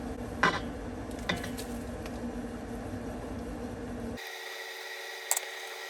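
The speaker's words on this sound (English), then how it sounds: "The whisk is stirring more slowly through the chocolate." A whisk stirring melting chocolate for chocolate mousse in a pan: quiet, steady scraping and swirling, with a couple of brief metallic clinks against the pan, close and soft, ending in a low constant hum.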